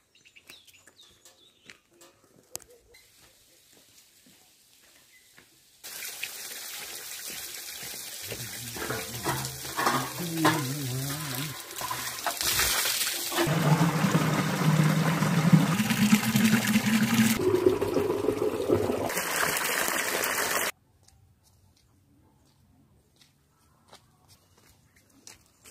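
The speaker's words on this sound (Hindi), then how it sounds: "तो लाता हूं पानी धारे से" Water from a village spring in the Uttarakhand hills pours steadily into a container for about fifteen seconds, the filling tone rising and changing, with faint birdsong and footsteps before and after; no talking.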